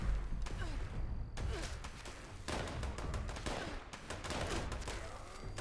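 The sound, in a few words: bow shots at a super mutant in the Fallout 76 video game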